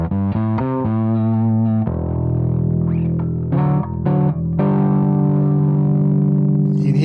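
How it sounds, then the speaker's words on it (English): Bass guitar played through a Line 6 Helix modelling an Acoustic 360 amp with slight distortion, loud sustained notes and a few quick plucked runs, ringing with a gritty edge and no talking. "here it's got that little bit of distortion in the back end"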